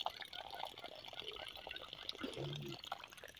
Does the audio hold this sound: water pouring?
yes